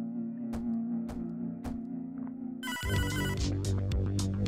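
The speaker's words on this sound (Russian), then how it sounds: "Телефон. Ты не ответишь?" Telephone ringing in Hotline Miami 2: a tonal ring pulsing with sharp regular clicks, then a busier, louder burst of ringing tones and music takes over partway through, with no speech.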